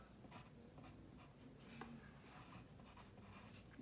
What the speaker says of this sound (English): at the bottom, I'm going to write the word foreground